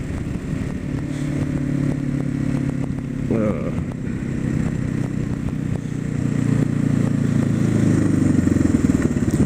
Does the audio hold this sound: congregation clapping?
no